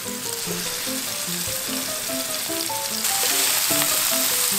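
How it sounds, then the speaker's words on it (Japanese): Hamburg steak fries in olive oil in a pan, giving a loud, continuous sizzle that grows a little stronger partway through, with light music playing underneath. "オリーブを敷いて焼いていきます"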